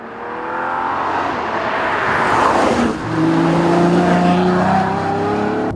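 A high-revving 651-horsepower Ferrari FF V12 engine roars steadily toward 8,000 RPM, its pitch climbing, dipping briefly, then rising again as it pulls hard, loud and close.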